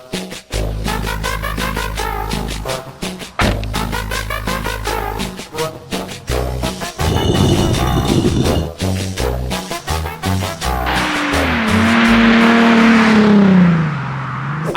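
A Nissan 370Z sports car engine revs hard in a series of loud, close bursts, rising and falling with sharp throttle blips, then settling into a sustained high roar that sweeps down near the end.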